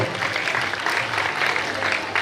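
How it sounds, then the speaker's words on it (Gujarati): Community award ceremony audience claps for top-ranked class 10 students, a continuous, fairly dense roll of hands at moderate loudness, without voices standing out. "જોરદાર તાળીઓના ગડગડાટથી વધાવીએ"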